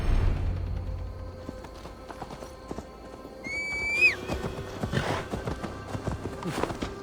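Horse hooves clip-clop at a steady pace through a Gloucestershire forest in Assassin's Creed Valhalla, close and moderately loud, with a sharp whinny partway through.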